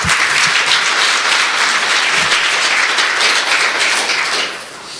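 CEOs and guests at a G Valley business forum give loud, continuous applause that fills the room and fades slightly toward the end, with no voices over it.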